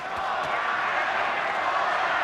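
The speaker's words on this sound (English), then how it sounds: "Crowd really getting into it." Crowd at a boxing match, Barrera versus Morales III, getting into it: a continuous dense arena roar of cheering, steady and full throughout with no breaks.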